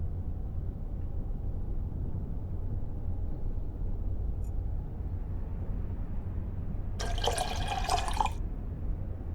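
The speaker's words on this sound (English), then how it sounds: "I need to pour in some developer" Developer liquid poured in the video game Black Mirror 2. A brief, splashy pour lasts about a second, set against a quiet, steady low background hum.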